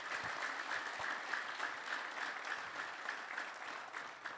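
Congregation applauding in a church service, a dense, steady wash of clapping from many hands that holds evenly throughout, moderately distant with no talking over it.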